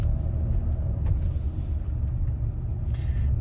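A Range Rover engine runs under steady throttle with a foot on the accelerator, a loud, close low rumble with brief hissy bursts over it.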